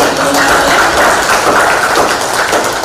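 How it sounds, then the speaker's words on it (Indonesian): Applause from the audience at a public debate between regency head and deputy head candidates, a dense, steady wash of clapping that stays loud and even from start to finish. "saya minta tepuk tangannya dari tim"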